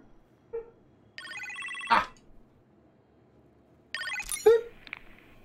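An electronic telephone ring in the game Iron Man VR sounds twice in short bursts, separated by a pause, clear and close against a quiet background.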